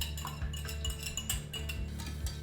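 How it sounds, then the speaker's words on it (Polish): A whisk or spoon gently stirs egg-and-cream custard for crème brûlée in a bowl, giving a steady run of soft clinks and scrapes against the bowl at close range, with no talking. "Delikatnie wszystko mieszamy, nie ubijamy, co jest ważne."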